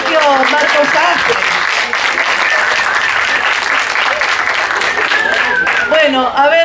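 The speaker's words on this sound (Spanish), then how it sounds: "Un aplauso para el colegio Marcos Sastre" A school group from Colegio Marcos Sastre gets loud, sustained applause from an audience, with voices calling out over the clapping.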